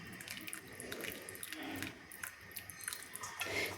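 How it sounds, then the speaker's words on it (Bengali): Boiled egg chow mein noodles are strained through a basket, with close watery splashing, dripping and trickling as the liquid drains away, moderately quiet and without talk. "সেদ্ধ করা চাউমিন আমি ছেঁকে নিলাম"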